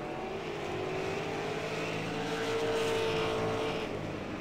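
Race cars circle the Las Vegas Bullring, a short oval, as a continuous loud engine roar with a rising and falling whine of passing cars.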